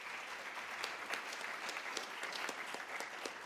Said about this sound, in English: Let's have a round of applause to all of us.